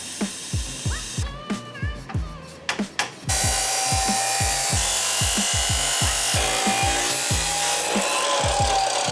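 Metal exhaust pipe for a Porsche 997 Turbo being cut: rhythmic back-and-forth saw strokes at first, then a steady loud grinding hiss that carries on with the stroking beneath it.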